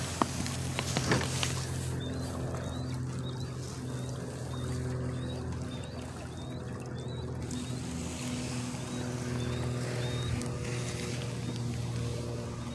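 Small outboard motor pushing an Expandacraft unsinkable skiff through water below full throttle, a steady droning hum with water wash and some wind, continuous and fairly close.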